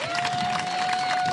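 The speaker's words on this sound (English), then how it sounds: "Give him a round of applause." An audience at a YMCA site dedication ceremony applauds as the co-host is introduced, giving a steady, moderate wash of clapping mixed with faint crowd noise throughout.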